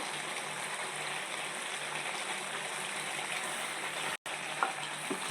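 Crab curry sizzling and bubbling steadily in a pan as tamarind is added, a continuous close frying hiss with a brief dropout near the end.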